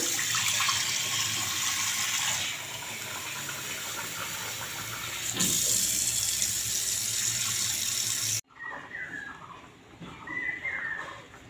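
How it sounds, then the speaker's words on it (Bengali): Rice is washed under running water from a tap, a loud, steady rush and splash filling a container, then an abrupt cut to quieter swishing and sloshing as the grains are rinsed by hand. "চালটা ভালো করে ধুয়ে নেই"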